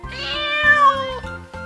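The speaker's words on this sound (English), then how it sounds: "Kitten." A kitten meows in a long, drawn-out cry with a rising-then-falling pitch, followed by a shorter meow, close and clear with no talking.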